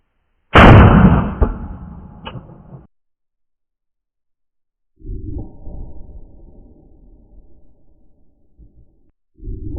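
Two gunshots from a SIG P365 pistol fired into ballistic gel outdoors, each a sharp loud crack followed by a long rolling echo, separated by about four seconds of silence, with a third shot starting at the very end.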